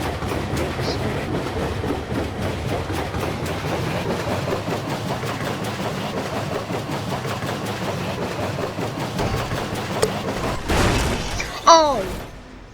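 A train rolls along in the video game Garry's Mod with a continuous rumbling clatter of wheels on track, close and loud, ending in a burst of crashing impacts and screeching.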